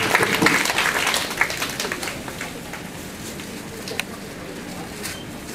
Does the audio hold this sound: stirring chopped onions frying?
no